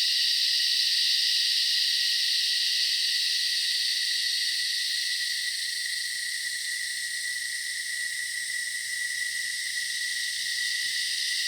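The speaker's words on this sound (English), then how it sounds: "listening to the cicadas do their thing" Cicadas on a hot, humid evening at sunset, heard from a sun deck as a dense, unbroken high-pitched drone that holds steady and loud the whole time, with no voices.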